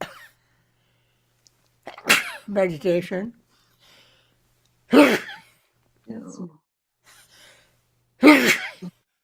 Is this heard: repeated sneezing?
yes